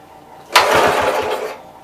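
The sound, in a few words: Wisconsin engine on master vibrator generator running on carb cleaner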